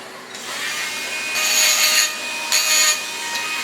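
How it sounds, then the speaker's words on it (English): A small Dremel rotary tool wheel grinds against a gluing surface in short, bright, rasping bursts, two louder passes standing out over a steady whir, close up and without talk. "Dremel wheel."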